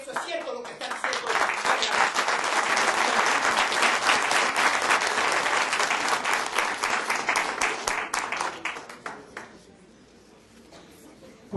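An audience applauds a speaker's remarks at a lecture on the May 24, 1981 air crash that killed Roldós, a loud sustained burst of dense clapping that fades out toward the end.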